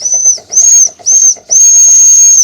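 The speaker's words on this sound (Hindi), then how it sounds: "ट्रेन की जो पुरानी सीटी है" An old steam train whistle shrieks in four loud, high, sustained blasts, the last one longest, with a soft rhythmic chuffing underneath.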